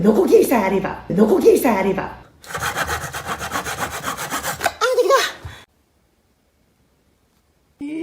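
A hand saw rasps through wood in quick, steady back-and-forth strokes for a couple of seconds, during DIY woodworking. A voice speaks before and after the sawing.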